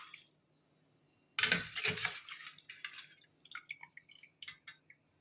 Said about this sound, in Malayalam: ഈ ചക്ക ഇനി നമുക്ക് തണുത്ത വെള്ളത്തിലേക്ക് മാറ്റാം